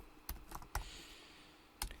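A few key presses on a computer keyboard, quiet and close, as scattered clicks with short gaps between them and no talking.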